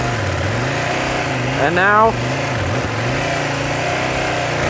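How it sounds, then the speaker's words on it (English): An adventure motorcycle revs hard for about half a second as it is rocked backward and forward over an obstacle, then drops back to a steady low idle. Someone talks over the engine almost throughout. "So you're gonna go like, that's how your bike should sound."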